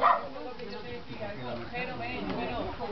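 Small puppies yip and whimper in high, scattered bursts close by while someone talks over them indoors.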